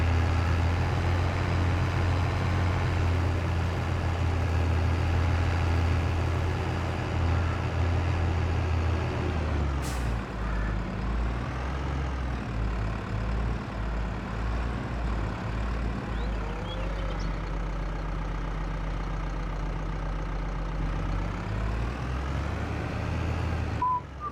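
A tractor engine on thin tires in the Farming Simulator 22 video game drones steadily and loudly throughout, with a low rumbling tone that shifts slightly midway. No talking is heard.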